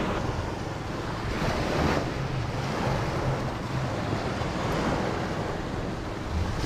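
Steady wash of ocean waves and wind buffeting the microphone, with a low boat engine drone underneath, continuous and fairly close, no voices.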